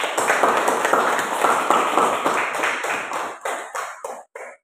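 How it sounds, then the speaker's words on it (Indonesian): A classroom of students claps hands together, a loud, dense patter that runs steadily and then thins into a few scattered, separate claps before stopping, with no talking over it. "tepuk tangan untuk semua dong"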